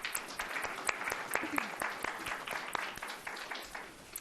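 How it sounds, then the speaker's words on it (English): Audience at a university Martin Luther King lecture applauds steadily for about four seconds, a dense even wash of many hands clapping close by, with no talk over it. "so let's give them a round of applause"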